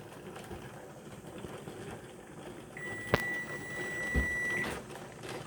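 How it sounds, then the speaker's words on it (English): A kitchen timer goes off during pressure canning of chicken, sounding one steady electronic beep that holds for about two seconds over a low background hum, with a couple of soft clicks nearby. "my timer's about to go off here"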